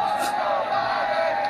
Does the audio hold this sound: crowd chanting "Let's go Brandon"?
yes